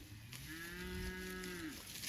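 A younger beef cow on a farm lets out one long, steady moo that bends downward at the end, fairly close and alone against faint outdoor background noise.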